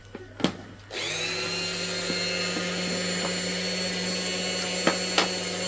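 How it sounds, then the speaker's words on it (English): Small electric drill fitted with a 2 mm bit spins up after a couple of clicks and whines steadily while boring through a bangle hinge, a high continuous motor tone with brief bumps of the bit biting the metal. "just get a drill, a Dremel or a normal drill with a 2 millimeter drill bit"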